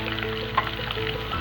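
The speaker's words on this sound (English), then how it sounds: "Now add the potatoes to this." Boiled potatoes going into a pan of roasting cumin seeds and green chilies: a steady close sizzle with one brief soft bump of the potatoes landing, no talking.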